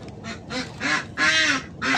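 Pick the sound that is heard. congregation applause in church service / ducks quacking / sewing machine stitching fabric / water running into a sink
ducks quacking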